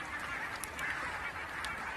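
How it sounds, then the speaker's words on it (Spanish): Ducks, swans and coots crowded together on a freezing lake: a dense, continuous chorus of honking and calling waterbirds with a few louder honks standing out over the steady din. "Patos, cisnes y fochas se apiñan en los últimos charcos disponibles"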